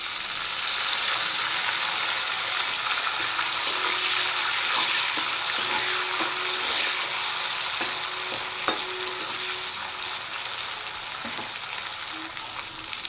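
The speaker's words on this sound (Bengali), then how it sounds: "পেঁয়াজ ভাজা হয়ে গেছে, এবার আমি দিয়ে দেব কেটে রাখা টমেটো।" Chopped tomatoes fry with browned onions in an oiled pan, producing a dense, steady sizzle up close, broken by occasional light clicks and scrapes of stirring; nobody speaks.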